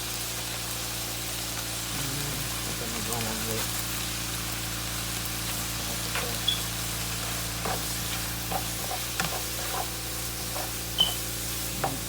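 Pepper steak with onions and onion soup mix sizzles in a pan while being tossed, a continuous frying hiss broken by scattered scraping and clinking of a utensil, fairly close.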